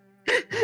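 A sudden breathy burst followed by a second sharper puff, like a quick two-part sneeze, close and fairly loud after a faint hum.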